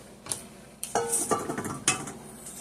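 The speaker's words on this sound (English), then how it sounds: "So I'll just chop my cheese down." Several sharp knife strikes chop a block of cheese on a cutting board in a home kitchen, about five crisp knocks coming close and unevenly spaced with no talk.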